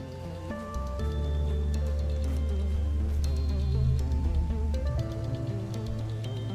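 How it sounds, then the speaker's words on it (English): Seasonal rain falls steadily over open fields in the video game I Was a Teenage Exocolonist, a constant wash of drops mixed with sustained tonal music throughout. "Your dad is completely drenched from the seasonal rains, out in the fields far from any sort of shelter."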